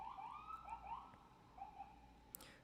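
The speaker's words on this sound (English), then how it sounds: "Damn ambulance." A passing ambulance siren sounds faint and distant, its wailing tones rising and falling steadily under a quiet background hum.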